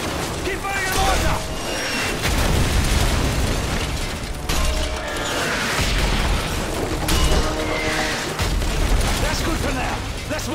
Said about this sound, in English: If it moves, put a mortar shell on it. Keep firing a mortar!